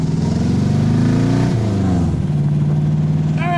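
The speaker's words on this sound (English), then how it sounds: "AC Cobra heading onto a roundabout." An AC Cobra's engine rumbles close up as the car pulls onto a roundabout, revving briefly then easing off to a steady idle-like drone, with a short high-pitched whine near the end.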